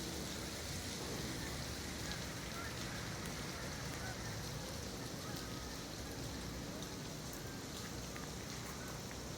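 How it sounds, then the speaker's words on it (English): Meltwater from an ice storm drips and patters steadily off ice-coated trees as the sun comes out, a dense, continuous hiss and patter like heavy rain, spread evenly and distant. "all of the ice on the trees is starting to melt because the sun's coming out, and it sounds like a torrential rainstorm"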